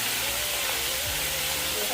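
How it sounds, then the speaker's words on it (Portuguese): Food sizzles steadily in plenty of hot fat in a home kitchen, a dense continuous hiss throughout with a voice speaking over it. "Eu coloquei bastante gordura e deixei a gordura esquentar bem, que aí ela já entra fritando"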